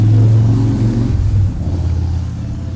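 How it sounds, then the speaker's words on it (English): Motor vehicles pass in the background near a home, giving a loud, steady low engine rumble that swells and then eases slightly as they go by, with no talking. "there are motorcycles around where I live right now"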